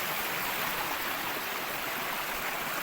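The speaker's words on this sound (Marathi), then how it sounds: "तर आता आपण आलोय नदीमध्ये, पाणी मोठं इथे." Steady rushing of river water flowing over rocks in the Konkan region, a continuous broad wash of sound with no voices.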